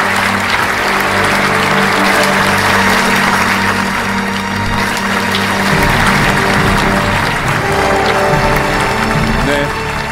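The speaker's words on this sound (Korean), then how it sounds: "모델리아 엔터테인먼트 대표 황영희 박수 부탁드리겠습니다." Continuous, dense applause from a crowd at a taegeukgi hanbok fashion show in a Busan hotel ballroom, loud and steady for about ten seconds, with music and voices blended underneath.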